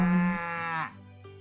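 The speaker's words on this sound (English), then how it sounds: "we are just getting ourselves a new baby cow" A baby cow in the game Story of Seasons: Pioneers of Olive Town lets out one drawn-out moo that dips in pitch near its end, clear and close with no voices over it.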